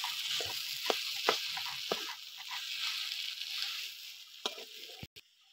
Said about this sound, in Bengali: আলুটা আমি কষিয়ে নেব।